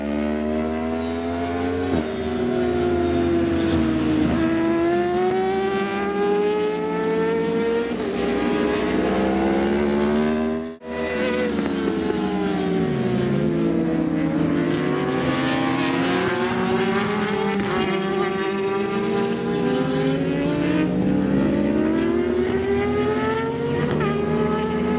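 A motorcycle ridden hard at pace sends out a loud, continuous engine roar with rising and falling revs through gear changes and one brief dip midway, steady and close throughout.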